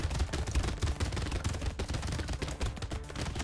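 Rapid submachine gun fire in a video game, a dense continuous burst of shots alternating with quick pops, steady and fairly loud throughout with no talking over it.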